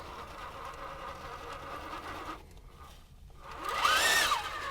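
A Vanquish Optic four-wheel-steer rock crawler climbing the Ironman trail gives off a steady mechanical whine that dips briefly, then rises and falls in pitch as throttle is applied near the end.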